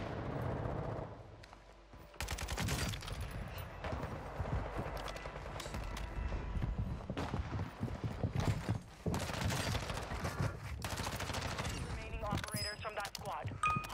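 Gunfire crackles in an online Warzone-style shooter match, with bursts and rapid volleys going on throughout at a distance and a player talking over them.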